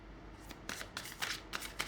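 Oracle cards being shuffled by hand in a quiet room, a series of soft papery riffles and slides in uneven bursts, close and clear with no talking.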